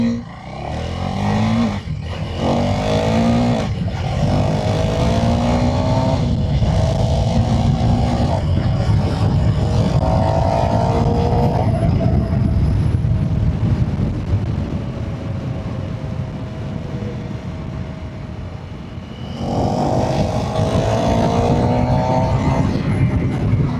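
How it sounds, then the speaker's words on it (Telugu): A KTM Duke 390 naked street motorcycle being ridden: engine revs rise and fall through repeated gear changes, loud and close, with wind roar throughout and a short easing off before it pulls hard again. "సో ఒకసారి బైక్ని స్టార్ట్ చేద్దాం. సో లేట్ చేయకుండా బైక్ని అయితే రైడ్ చేద్దాం"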